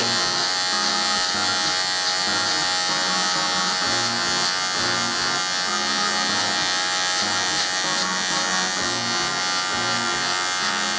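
Electric hair clipper buzzing steadily while cutting a high skin fade in a barbershop, a loud, continuous close-up drone with faint music underneath.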